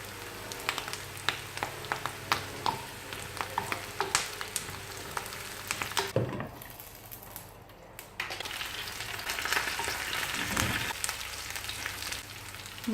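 Shallots and curry leaves fry in a pan for a chicken varuval, giving a steady close sizzle with scattered crackling pops and a short quieter gap midway before the frying swells again.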